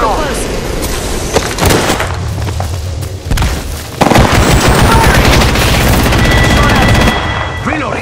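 Heavy Apex Legends gunfire erupts in sustained automatic bursts and booming shots, close and loud, with a player's voice talking over the shooting.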